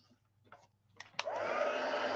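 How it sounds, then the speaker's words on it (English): A heat tool blows over embossing powder on cardstock, starting after a couple of faint clicks and then holding a steady, breathy whirring hiss, close and continuous. "we're going to go ahead and hit both of these pieces of cardstock with our heat tool"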